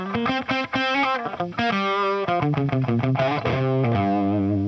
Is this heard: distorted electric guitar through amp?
yes